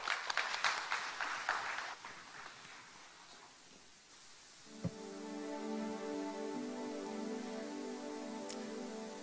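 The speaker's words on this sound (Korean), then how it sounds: "박수로 우리 환영할까요?" A church congregation applauds, a soft scattered patter of clapping at first that fades, followed by a low sustained musical tone; faint and somewhat distant throughout.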